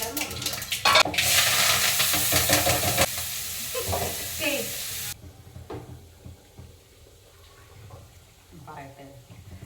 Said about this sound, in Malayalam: മത്തിക്കറി തിളച്ചിട്ടുണ്ട്.